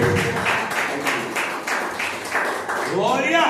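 A church congregation applauding, with rhythmic, regular clapping under a voice speaking over it.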